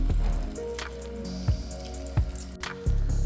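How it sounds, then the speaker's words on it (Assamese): Eggplant slices frying in a pan give a soft sizzle with a few sharp drips and pops, fairly quiet and close. "এইটো মই বেগুন ভাজি আছোঁ"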